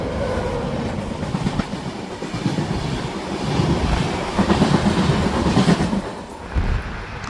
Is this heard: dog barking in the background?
no